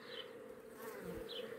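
Honey bees buzz steadily around a hive of a breeding colony, a dense, continuous drone that stays close and even throughout, with no talking.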